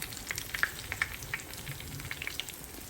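Sea bream fish fries in a pan with a steady close sizzle and scattered crackling pops of hot oil, with no talking.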